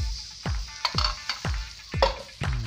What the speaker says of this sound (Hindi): मैं घी और ऐड कर दे रही हूँ।